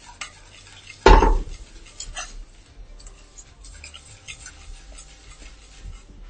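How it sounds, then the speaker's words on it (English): A whisk works through a sauce seasoned with black pepper: one loud knock against the vessel near the start, then light, quick clinking and tapping that continues at a moderate, close level. "Whisk away, whisk."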